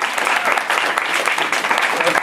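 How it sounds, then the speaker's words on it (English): Brief applause from a panel audience at VidCon 2011, dense clapping throughout the short moment. "Oh, clap for her."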